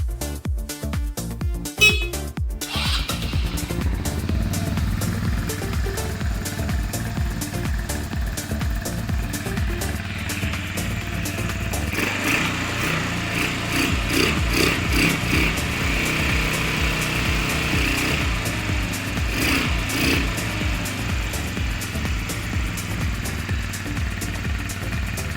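A repaired quad bike ATV engine runs steadily, a loud buzzing small-engine drone with revving rises and falls, close by and with no talking over it.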